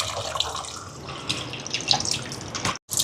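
Tamarind water poured into simmering coconut-milk sambar makes a soft, steady trickling and splashing with small drips, fairly quiet and close, with no voices.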